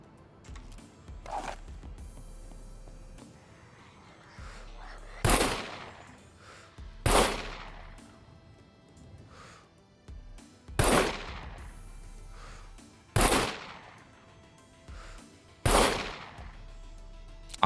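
A gun in the SCUM survival game fires several separate loud single shots spaced a second or more apart, each with a sharp crack and short decaying tail over low ambient rumble.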